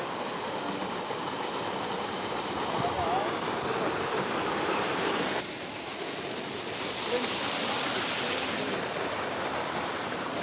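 A waterfall at the Anakeesta attraction in Gatlinburg in the Smoky Mountains of Tennessee rushes in a steady, dense roar of falling water that stays loud and constant throughout.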